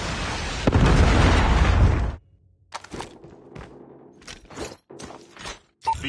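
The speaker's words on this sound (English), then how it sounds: "Friendly Predator missile inbound." A Predator missile strike explodes in a Call of Duty Mobile match with a loud, close, roaring boom lasting about two seconds. Quieter gunfire pops and game sounds follow.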